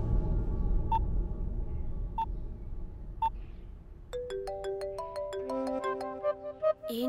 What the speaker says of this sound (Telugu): ఏంటి ఎప్పుడు చేయని విక్కీ ఈరోజు నాకు కాల్ చేస్తున్నాడంటే టుడే వెరీ సంథింగ్ స్పెషల్.